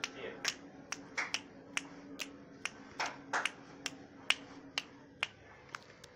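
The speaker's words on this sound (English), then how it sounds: "Let's see if I start snapping and dancing." Finger snaps ring out sharply and close, about twenty crisp clicks in an irregular rhythm over a faint steady hum, with no voice.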